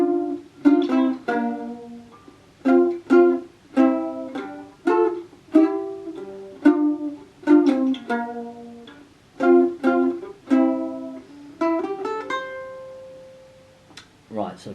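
The chorus of a song is played on a mandolin, with bright plucked notes in quick repeated phrases and short pauses between groups, heard close and alone.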